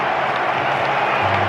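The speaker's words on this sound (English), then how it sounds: "Just gonna give them a big cheer now" Football fans cheer and applaud after England's win over Denmark, a loud, dense roar of a large stadium crowd filling the whole moment without a break.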